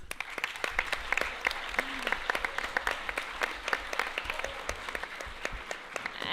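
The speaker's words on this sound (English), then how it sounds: "Applause." Applause rises from delegates in a council meeting hall, a steady moderate patter of many hands clapping at a fair distance, with a faint voice briefly heard.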